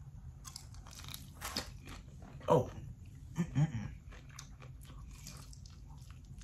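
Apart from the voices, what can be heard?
biting into crunchy fried chicken wings from Wingstop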